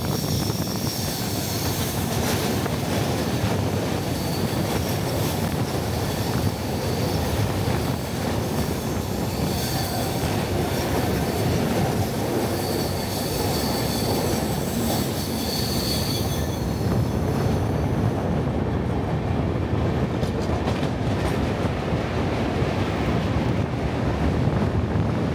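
A passenger train runs out of Rajahmundry toward the Godavari rail bridge over the Godavari River, giving a loud, unbroken rumble with metallic wheel squeal and wind buffeting throughout, with no voices.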